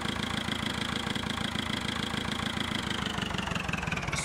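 A green tractor's engine idles in the farming video game Farming Simulator 2011, a close, steady, throbbing diesel chug with an even rapid pulse and no voices.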